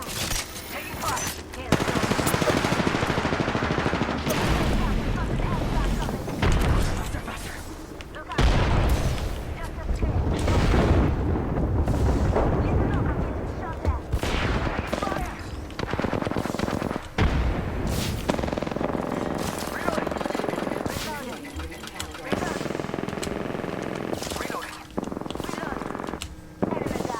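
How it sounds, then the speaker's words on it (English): Apex Legends gunfight with rapid automatic bursts, single shots and booming impacts that come in waves over nearly half a minute, loud and close, with game voice lines and talk running underneath. "Getting shot at. Taking fire."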